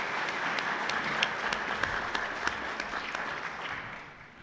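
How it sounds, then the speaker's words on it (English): A lecture-hall audience at a scholarship panel discussion gives a sustained round of applause, dense clapping that holds steady before tapering off at the end. "if everyone will give them a round of applause"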